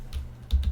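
A few quick keystrokes on a computer keyboard, soft and close, with short gaps between the taps.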